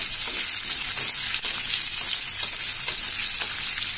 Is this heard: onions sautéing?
yes